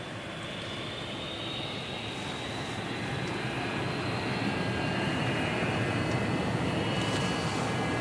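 An airplane taxis down the runway and begins its takeoff roll, a steady, loud engine roar that swells gradually over several seconds with a faint high whine above it, and no talking.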